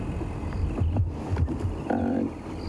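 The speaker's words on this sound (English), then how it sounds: "You can hear a squirrel alarm calling" A squirrel gives an alarm call in the Sabi Sand bush at sunrise, a short burst of harsh, repeated chattering notes at moderate distance over a low rumble of wind and vehicle noise.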